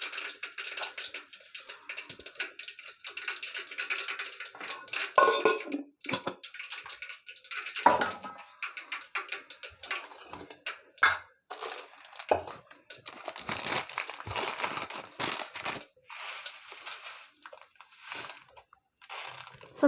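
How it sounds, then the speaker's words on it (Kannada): Mustard seeds and curry leaves crackle and sizzle in hot oil for a wedding-style lentil rasam, a dense continuous fizz broken by irregular sharp pops and spatters, fairly close and steady throughout with no talking. "ಈಗ ಎಣ್ಣೆ ಕಾದಿದೆ. ಇದಕ್ಕೆ ಸ್ವಲ್ಪ ಸಾಸಿವೆ ಹಾಕ್ಕೊಳ್ತೀನಿ. ಮತ್ತು ಸ್ವಲ್ಪ ಕರಿಬೇವು ಹಾಕ್ತೀನಿ."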